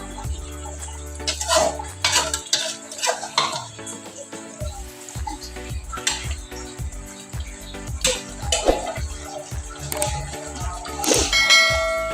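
Coconut powder and almond powder are stirred into a chicken malai handi. A spoon clatters and scrapes repeatedly against the metal pot, close and irregular, with a brief ringing clink near the end.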